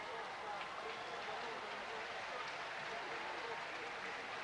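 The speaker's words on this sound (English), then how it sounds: "And the crowd in the stadium are really roaring him on." A stadium crowd at the 1991 World Marathon Championship in Tokyo roars steadily for an arriving marathon runner, a dense, continuous wash of distant cheering with a commentator talking over it.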